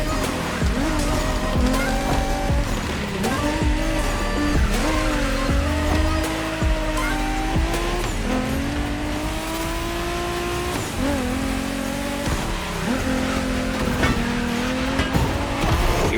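Race cars roar through the final race in the video game The Crew Motorfest, a loud continuous engine drone rising and falling through gear shifts, with tire squeals and skids mixed in and no voices.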